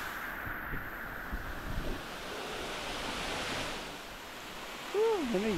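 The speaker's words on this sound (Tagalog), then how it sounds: "Andito tayo sa falls." Waterfall at Batman Loop, a steady broadband rushing roar with wind buffeting the microphone, continuous and fairly loud throughout.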